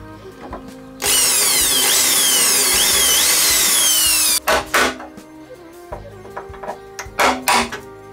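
A power tool whines loudly for about three seconds, its pitch sweeping as it backs screws out of an engine part, followed by short clanks and rattles of parts being handled.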